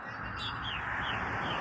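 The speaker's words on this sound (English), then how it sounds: "I'm not sure exactly what kind of birds they are" A flock of birds gathered around gourd bird houses in a neighborhood tree at sunset chirps in thin, high twitters above a dense, steady wash of outdoor noise.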